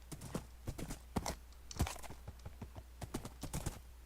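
Horse hooves clip-clop in a video game, a steady run of close, sharp hoofbeats over a low hum.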